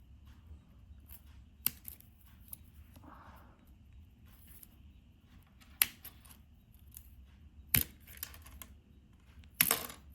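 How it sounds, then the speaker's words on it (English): Scissors snip string on a bamboo sushi mat to free one of its small sticks, giving several sharp, isolated clicks and snaps spaced a few seconds apart, with faint rustling between them and no talking. "So I'm gonna have to snip the string there to release one of these little sticks."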